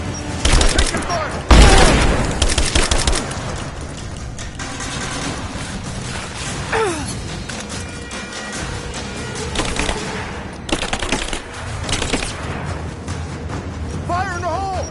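Bursts of gunfire in a Tomb Raider firefight, a loud crack early on, then rattling volleys that come and go over engine rumble, with shouted combat voices in between.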